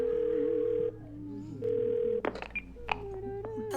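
In the video game Twelve Minutes, a telephone is dialed. Two sustained, loud dial tones are followed by a brief flurry of clicks and short beeps, with a low hum underneath.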